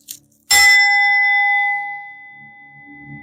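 A single gong struck gently during a guided meditation, a sudden bright metallic strike with a long ringing tone that slowly fades over a few seconds, close and loud.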